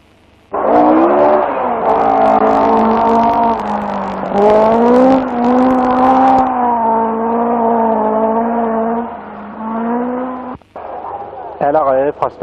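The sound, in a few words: rally cars racing on a special stage at Blenheim Castle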